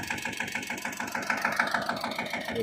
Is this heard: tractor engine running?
yes